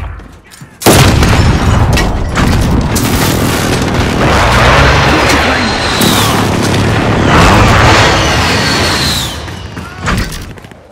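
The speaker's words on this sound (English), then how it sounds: "Precision airstrike inbound." Heavy explosions from a precision airstrike in a zombie-infected shooter game, a long loud rumbling barrage of booms and blasts lasting several seconds, with brief voice chatter over the noise.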